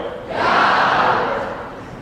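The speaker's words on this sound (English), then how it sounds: "I need everyone to say "ya" when I point out to the crowd." An event crowd at a Martin Luther King Jr. convocation shouts a single loud unified "ya" in call and response, a brief swelling roar that fades away.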